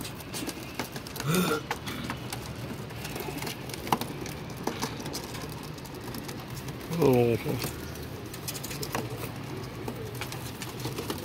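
Pigeons from a home loft of adults and young birds give a couple of brief low coos, one early and another midway, against steady background noise with occasional light taps and someone talking.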